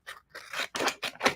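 Several quick, close snips of scissors trimming transfer tape for a round wood sign, about four or five cuts in a row with no voices.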